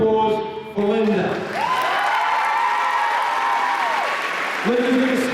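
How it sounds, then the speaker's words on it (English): A high school assembly crowd applauds for Linda, with cheering, whoops and shouted voices rising over steady clapping, loud and dense throughout. "I want a big round of applause for Linda."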